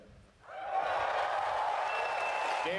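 An audience at a game showcase breaks into sustained cheering and applause. It swells quickly after a brief lull and holds steady, fairly distant and diffuse.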